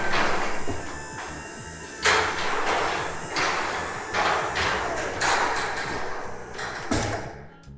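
A Chamberlain garage door opener closes the door, a steady mechanical rumble running throughout with repeated thumps and clunks of the panels and track, loud and close with no talking.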